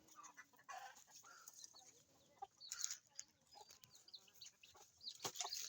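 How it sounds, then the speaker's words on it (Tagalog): Chickens cluck and chatter in scattered bursts around a coconut farm in the countryside, faint and close, with occasional sharper calls and no talking. "May mga manok guys."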